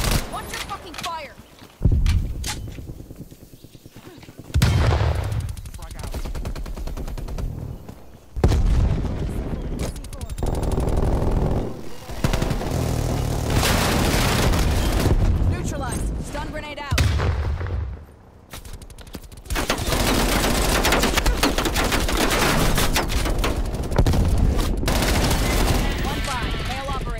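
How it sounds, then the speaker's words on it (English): Sentry turret gunfire in the Call of Duty Black Ops Cold War beta, loud bursts of automatic fire and booms in repeated waves, mixed with other battle noise and voices. "Hostile sentry turret active."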